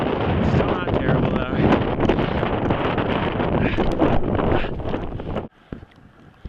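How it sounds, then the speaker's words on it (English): Strong wind buffets the microphone during a solo winter ascent of Long's Peak, a loud, continuous roar with gusting flutter that drops off abruptly near the end into faint background noise. "the weather's getting a little windier and chillier"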